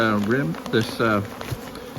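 Honeybees buzz close by at a hive during spring feeding, their droning tones swooping up and down as individual insects pass near, steady and fairly loud throughout.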